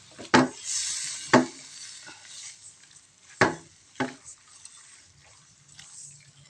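Food with sugar and black pepper is stirred in a pan, with a few sharp scraping knocks of the utensil against the pan and a light sizzle between them.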